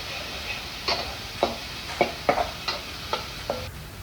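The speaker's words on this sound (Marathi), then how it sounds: "टमॅटोही आपल्याला मऊ होईपर्यंत शिजू द्यायचं आहे छान असं परतवून घ्यायचं आहे" A spoon scrapes and stirs chopped tomatoes sautéing in a pan, about eight distinct clicks and scrapes spaced irregularly over a soft, steady sizzle, close and alone without talk.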